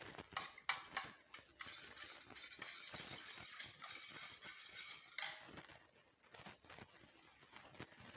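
A spoon stirring oil mixed with black cumin powder in a small container, with soft, quick scraping and light ticking clinks against the sides in an uneven rhythm, close and quiet.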